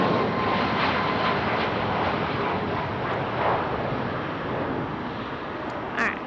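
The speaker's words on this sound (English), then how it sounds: "Big wobble on departure there for Southwest" A Southwest Airlines Boeing 737 takes off at Raleigh-Durham International Airport, heard as a steady, loud broadband jet roar with wind buffeting across the microphone; no voices.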